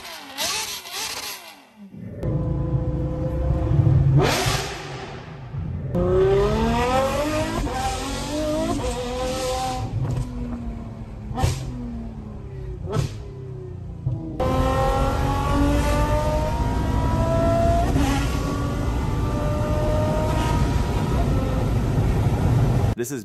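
A straight-piped Ferrari F12 revs hard and loud, rising and falling in repeated bursts with sharp gaps between them, then settles into a long sustained high rev near the end.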